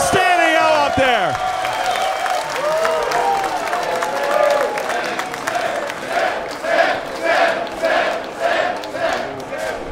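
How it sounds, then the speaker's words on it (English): A large stand-up comedy audience applauds and cheers loudly, with whoops and shouts over continuous clapping, while a voice speaks over the crowd. "Keep clapping as you're walking out."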